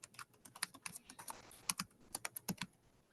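Quick, irregular clicks of a computer keyboard as commands are typed at a Unix command line, close and quiet, with bursts of keystrokes and brief pauses.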